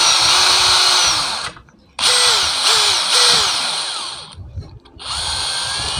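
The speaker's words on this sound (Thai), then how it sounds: "ผมใช้สว่านเจาะตรงด้ามไม้เลยนะครับ" Electric drill boring into the wooden handle of a large soldering iron, heard in several loud whirring bursts with pitch changes and brief pauses between them.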